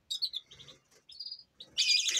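A canary chirps near its nest, a string of short bright tweets and trills broken by brief pauses, ending in a longer, louder burst of song heard close up.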